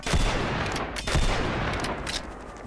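Rapid gunfire from the Western video game Bridger Western, a dense run of loud overlapping shots with a couple of heavier bursts, sustained throughout without pause.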